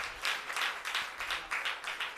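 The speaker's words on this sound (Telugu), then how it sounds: "సేవకులందరి కొరకు ఒకసారి చప్పట్లు కొట్టండి" An audience in a church claps for the servers, a short burst of scattered, moderately loud hand claps with a slightly uneven rhythm.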